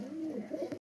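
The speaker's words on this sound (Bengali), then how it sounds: "দাদার বাড়ির পায়রা, ভালো ভালো পায়রা আছে এখানে" Domestic pigeons at a home loft give a soft, low warbling coo, close and fairly quiet, a brief rolling call with no voices over it before cutting off abruptly.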